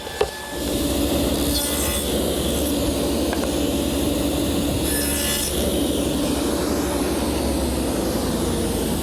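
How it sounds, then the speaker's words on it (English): A table saw with a dado head cuts into wood to form tenons, giving a loud, sustained whining cut with a steady motor hum that carries on for the whole stretch after a brief start. "by eye I've just made a few passes through the dado head to see if I can get a nice fit"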